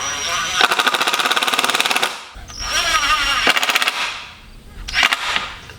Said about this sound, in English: So come in on a 45 and drill into this piece of wood.